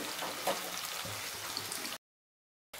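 Steady close sizzling of onions sautéing in hot oil, soft and continuous, then a brief cut to silence near the end.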